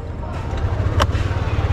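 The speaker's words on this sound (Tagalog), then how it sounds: "Start the engine." A boat motor starts up as a low rumble swells beneath faint background noise, with a single sharp click partway through.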